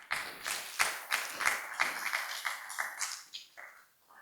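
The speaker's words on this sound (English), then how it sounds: "Let's acknowledge them with a round of applause." Audience applause at an Institute of Directors Ghana general meeting, given for the committee members: a run of sharp, close hand claps in an uneven rhythm that thins out toward the end, with no talking.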